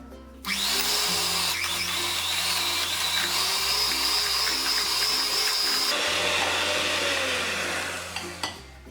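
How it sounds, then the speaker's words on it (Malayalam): An electric egg beater whips butter and sugar for vanilla cupcakes, a close, steady motor whine that shifts between speed settings a few times before winding down at the end; no one talks over it. "ഇത് ഈ ബട്ടറിലേക്ക് ഇട്ടിട്ട് ഒരു എഗ് ബീറ്റർ കൊണ്ട് ബീറ്റ് ചെയ്തെടുക്കാം"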